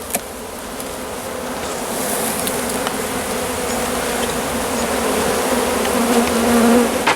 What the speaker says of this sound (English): Entirely bees.